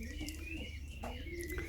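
Young racing pigeons coo softly in a loft, giving low, murmuring calls with a few brighter chirps over a steady, close background hum.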